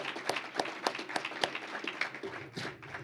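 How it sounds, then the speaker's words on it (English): An audience at a Doctor of Physical Therapy white coat ceremony applauds, a moderate round of mixed hand claps with a few sharper individual claps standing out, steady and slightly distant throughout. "let's give them a warm round of applause"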